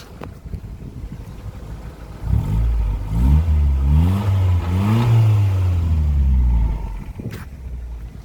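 A 1990 Toyota Starlet EP80 with a 1.0 engine, idling and then revved up and held with rising and falling engine tone for several seconds before settling back to idle, close and loud.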